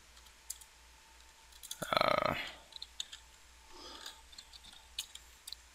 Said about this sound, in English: I'm just going to type it in because I know where it is.